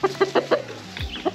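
Hens cluck inside a chicken tractor on a homestead: a quick run of four close, rhythmic clucks, then a pause and a few softer, scattered clucks.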